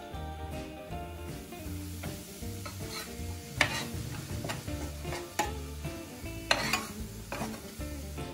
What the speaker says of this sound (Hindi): घी डाल दिया मैंने, अब मैं बेसन डालूंगी इसके अंदर।